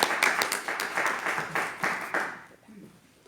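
A church congregation claps together after a prayer, a moderate burst of hand claps that is fairly close and quickly fades away after a couple of seconds.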